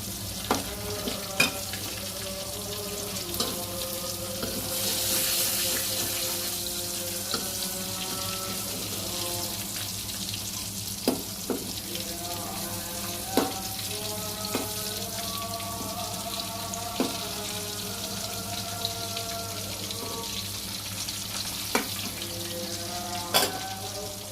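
Koi fish frying in a pan, a continuous sizzle and crackle throughout, with clattering stirs and a tonal ringing clink pattern over it, close by and no speech.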